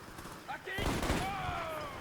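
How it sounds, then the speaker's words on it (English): Sharp gunfire bursts from an enemy in a first-person shooter game demo, a loud crack near the middle followed by echoing shots and ringing tones, with game ambience around. "He shot me while facing the other way."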